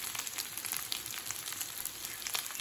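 Pathrode, a colocasia-leaf roll, shallow-frying in coconut oil gives off a steady, soft crackling sizzle, faint and continuous with small pops, without any talking.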